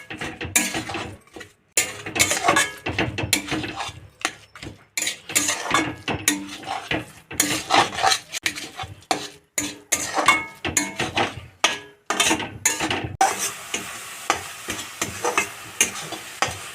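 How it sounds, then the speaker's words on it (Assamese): Grated coconut fries in a kadai on low flame, stirred steadily with a metal spatula that scrapes and clatters against the pan in repeated bursts over a soft sizzle, with no talking. "এতিয়া নাৰিকল ভাজাৰ কাৰণে কেৰাহীটো বহাই দি দিছোঁ লগতে নাৰিকলখিনিও দি দিছোঁ এতিয়া জুইটো একদম কমাই লৈ ভাজি থাকিম"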